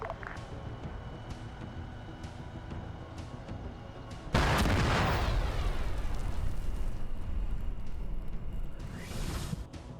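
A massive explosion from a Warhammer 40K-themed Dreadspire operation erupts suddenly and stays loud, rumbling and crackling for several seconds before cutting off, after a steady background drone.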